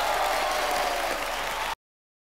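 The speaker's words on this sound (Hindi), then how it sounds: "जोरदार तालियां हो जाए" Studio audience applause on a Hindi comedy television show, a dense, loud wash of clapping and crowd noise that holds steady for under two seconds, then cuts off abruptly to silence.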